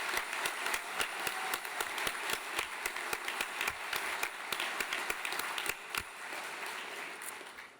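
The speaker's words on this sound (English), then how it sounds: "Let's give a round of applause for Mr." A crowd applauds steadily for several seconds at a New York City Sanitation graduation and promotion ceremony, a dense wash of clapping with a few sharper individual claps standing out before it thins.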